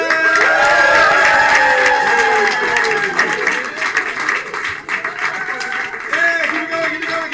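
Studio audience at a comedy improv show clapping to welcome contestants back, a dense burst of applause that thins out as a voice talks over it.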